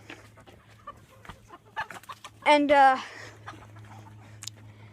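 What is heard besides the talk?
chickens clucking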